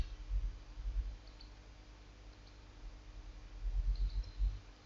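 Computer mouse clicks during a web login, a few soft near taps in short clusters at the start and again near the end, with quiet room hum between and no talking.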